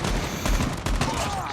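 Gunfire in the mobile shooter Call of Duty Mobile, from a gun fitted with a Merc foregrip, regular stock and Grenadier barrel: a quick burst of several rapid shots, moderately loud, with faint background noise.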